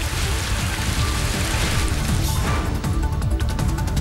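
Heavy rain pours steadily on hard surfaces, a dense continuous patter with sharper splashing hits throughout, loud and close, with no talk.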